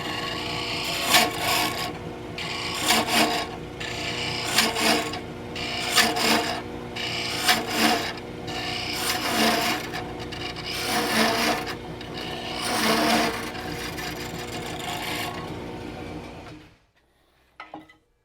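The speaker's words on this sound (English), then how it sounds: "So back to the roughing tool for a moment." A roughing tool on a wood lathe cuts a tenon in a spinning wooden workpiece, a close, loud, steady scraping whir with rhythmic surges as the tool is levered in and out, ending abruptly as the cut stops.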